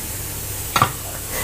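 Opor-style tofu and egg curry broth, seasoned with salt and mushroom stock, heats in a pot with a steady, close bubbling hiss, interrupted once by a brief clink of a utensil.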